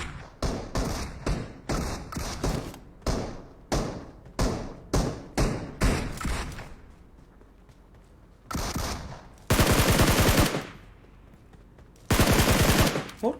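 Video game gunfire aimed at bosses: rapid bursts of repeated shots in a steady, choppy rhythm, then longer sustained volleys of automatic fire, loud and close with no talk over them.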